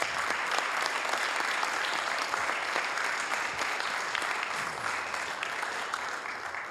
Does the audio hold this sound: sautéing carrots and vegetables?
no